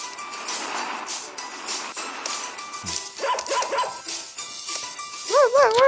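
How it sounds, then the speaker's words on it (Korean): Several short, bright electronic dog barks from a video game dog character, playful and synthetic, with game music and chimes around them; a warbling tone rises at the end. "항상 멍멍거려서 엄청 귀엽네요."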